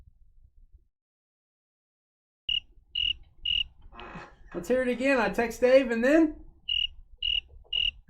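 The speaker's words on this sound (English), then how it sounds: "No answer, just crickets chirping." A cricket-chirping sound effect plays as three evenly spaced, clear chirps, pauses while someone talks, then returns with three more identical chirps.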